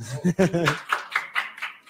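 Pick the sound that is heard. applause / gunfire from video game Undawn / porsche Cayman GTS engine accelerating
applause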